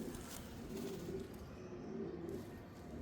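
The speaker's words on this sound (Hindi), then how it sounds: "ये जी प्योर डबल है कबूतर है" A pure double pigeon, a male, cooing softly in a repeated low rolling call, faint and close against a quiet background, no voices.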